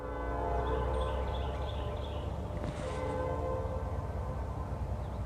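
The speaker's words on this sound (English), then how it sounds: "I didn't know there's train tracks around here." A train running along nearby tracks, a steady low rumble with tonal hum and faint high squeals, moderately distant and continuous, no talking.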